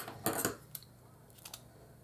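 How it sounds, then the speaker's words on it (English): Scissors snipping yarn tails on a crafted bunny carton box, a couple of close quick crisp snips followed by a few fainter clicks, no talking. "Tie that, and then cut the loops off,"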